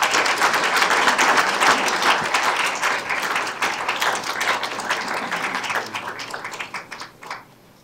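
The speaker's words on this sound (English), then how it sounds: "But please, one more round of applause for them." A room full of people applauds at a city commission meeting in North Port, with dense sustained clapping that starts strong and gradually thins and fades toward the end.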